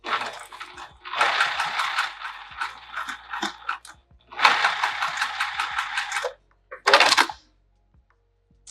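A sewing machine stitching across the end of a Barbados bag, two long runs of rapid close mechanical whirring with short pauses between, then a brief final burst and quiet.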